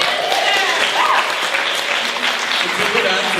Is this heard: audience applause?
yes